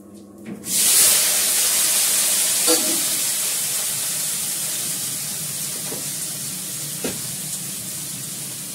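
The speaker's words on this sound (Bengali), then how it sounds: "কড়া তেতে গেছে, কড়াতে আমি দেব জিরে আর হিং ফোড়ন" Cumin seeds and asafoetida dropped into a hot pan for tempering, a sudden loud sizzle that flares up then settles into a steady close hiss, with a couple of faint knocks.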